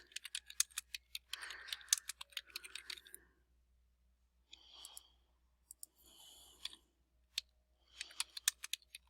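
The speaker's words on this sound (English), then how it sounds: "I'm going to come up here to advanced search, and I'm going to type in" Someone types search terms on a computer keyboard, quiet close key clicks in quick uneven bursts separated by pauses, with a few sharper isolated taps, in an otherwise silent room.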